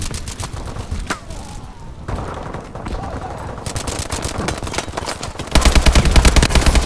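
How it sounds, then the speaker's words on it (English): Video game gunfire during a livestream, rapid bursts of automatic shots rattling near and loud, with a brief lull midway and a denser, louder volley at the end, and a voice talking over them. "I just see a guy shooting his gun at basically nothing"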